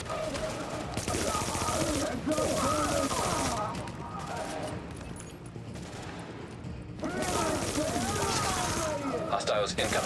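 Turrets firing in a video game, dense rapid bursts of gunfire that come in long stretches with brief lulls, loud and close, layered with clashing effects and a person talking over them.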